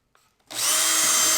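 A power drill spins up abruptly and runs loud and steady at close range, driving a screw into a cedar fence picket planter box.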